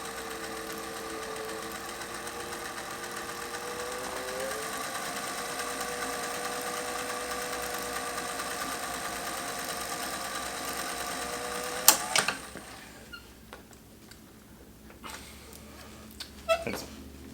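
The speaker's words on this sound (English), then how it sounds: "it's pretty quick to wind a bobbin" A Singer 201-2 sewing machine winds a bobbin with a steady, even motor whir for about twelve seconds, then cuts off, leaving a few light mechanical clicks and taps.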